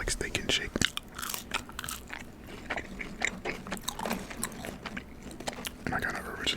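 Thin-cut fries from a Freddy's fast-food meal being bitten and chewed close to the mic, soft crunchy mouth sounds in an uneven rhythm, with a voice talking over them.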